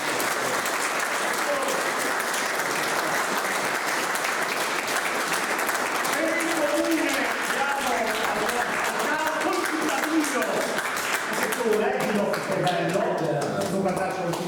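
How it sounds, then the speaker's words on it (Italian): Sustained audience applause at an Alpini veterans' gathering, dense and steady clapping from a crowd filling the room for the whole stretch, with some voices murmuring underneath toward the end. "Io direi di fare un applauso intanto."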